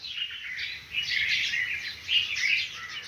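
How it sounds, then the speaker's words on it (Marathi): Sparrows chirping on a foggy, cold morning, a busy overlapping chorus of high twittering calls at moderate distance over a quiet background. "धुकं धुकं चिमण्यांचा कलकलाट पक्षी उठलेली आहे थंडीत असं गप्पा चालू आहे त्यांच्या"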